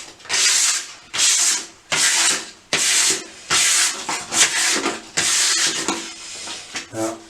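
A radiator being sanded with a sponge pad, heard as repeated loud rasping back-and-forth strokes in a steady rhythm, about seven passes close up with brief pauses between them.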